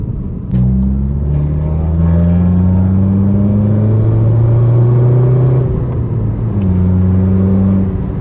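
A Volkswagen Golf 7 GTD Stage 2 tuned diesel engine revs steadily with a deep, throaty rumble, its pitch rising and falling in long sustained pulls, loud and close throughout.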